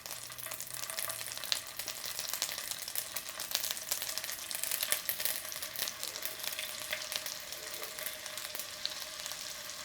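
Lightly salted and peppered scallops searing in melted butter in a pan give a steady, close, crackling sizzle that holds evenly throughout without any voices.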